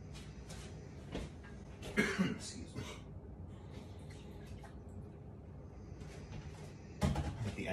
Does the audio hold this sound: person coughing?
yes